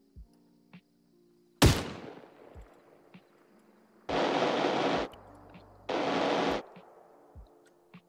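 Gunfire in Arma 3: one sharp, loud shot with a long echoing tail, then two sustained bursts of automatic fire about a second each, separated by quiet with faint distant pops.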